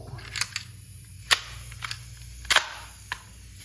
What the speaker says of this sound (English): make sure you have is like a pneumatic staple gun of some sorts